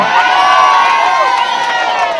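Crowd at a Wits university speech screaming and cheering loudly, a dense burst of shouts and whoops lasting a couple of seconds.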